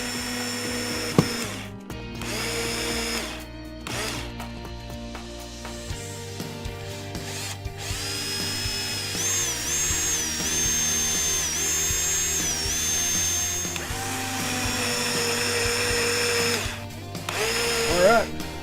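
Power drill driving screws into a teardrop trailer door, several whirring bursts of varying length close by, with talk in the background during parts of the run.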